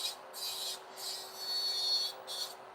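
A hand nail file strokes lightly across a nail in a few slow, separate passes, a soft, close, dry rasping with brief pauses between strokes and no talking.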